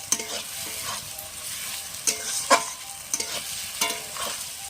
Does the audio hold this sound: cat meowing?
no